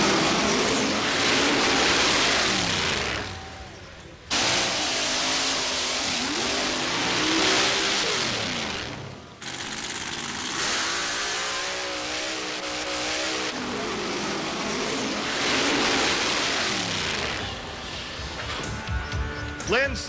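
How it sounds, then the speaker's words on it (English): A 1927 Peyton Roadster mud racer with a 550 cubic inch Chevy engine, Pontiac heads and a two-speed Lenco transmission roars and revs hard in sustained loud bursts, with brief drops between runs and spoken narration over it. "This 1927 Peyton Roadster sports a 550 cubic inch Chevy engine with Pontiac heads and a two-speed Lenco transmission"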